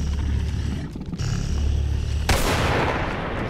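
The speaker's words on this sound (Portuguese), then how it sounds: "Levou tiro de bazuca." A bazooka shot in Resident Evil 4, a loud booming blast with a broad explosive burst cutting in after a rumbling stretch of game noise and growling creatures.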